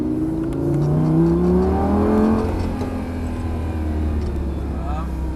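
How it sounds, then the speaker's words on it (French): A car engine revs up and pulls away, its pitch climbing steadily before settling into a steady drone, with a voice speaking briefly over it. "Et là tu vas pouvoir accélérer."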